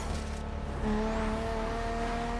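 A steady, loud engine drone with a rising whine, a widebody Nissan GT-R accelerating hard in the video game The Crew Motorfest, continuous throughout with no voices.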